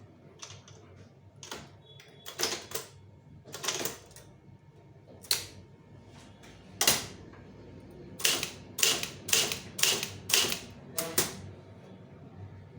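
Typing on a computer keyboard while drafting a Demi Official Letter in Tamil: uneven bursts of crisp key clacks, some single and some in quick runs, close and clear with no talking.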